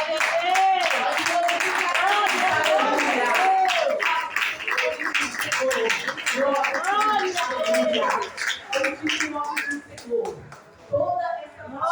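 A church congregation claps hands in praise during a worship service, steady rhythmic clapping running throughout beneath loud voices speaking and calling out.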